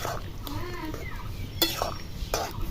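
A banana flower is stirred in a pot of boiling water over a village clay stove, giving a few soft clinks and scrapes of a utensil against the pot over a low bubbling background, with faint voices nearby.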